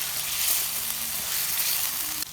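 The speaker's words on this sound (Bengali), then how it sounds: "ফিশ বলগুলোকে দিয়ে আমি 2-3 মিনিট রান্না করব।" Fish balls fry in a spice masala with a steady, close sizzle that runs unbroken throughout, with no voices.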